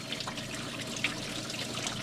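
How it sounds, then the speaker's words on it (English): Radiator coolant from a Jeep JK with the Pentastar engine drains onto the engine block and drips off the axle into a container, giving a steady, close, low-level trickle with scattered brighter drips. "I'm redirecting a lot of it onto the block, which is making most of it fall and drip off the axle into the container."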